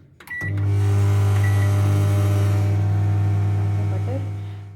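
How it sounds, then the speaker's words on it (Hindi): A microwave oven melting butter for brownies switches on with a click and runs with a steady, loud, low electric hum for several seconds, then the hum fades as it winds down. No talking is heard. "इसको आप माइक्रोवेव में बेशक रख के कर लें फॉर फ्यू सेकंड्स।"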